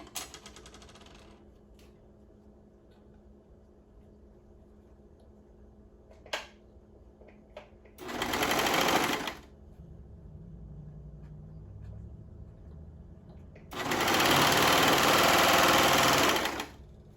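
Serger sewing machine stitching three layers of fabric, two loud sustained whirring runs of about one and three seconds separated by quiet with faint handling clicks, close to the listener.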